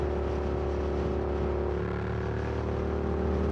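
Steady, loud exhaust drone from a Suzuki GSX-8S running a Delkevic 8-inch carbon fiber full system at highway speed, a deep continuous rumble with slight rev variation and no voices.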